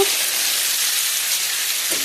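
Vegetables frying in a pan with bottle gourd leaves to follow, a loud, even sizzle and crackle running without a break, close up and alone.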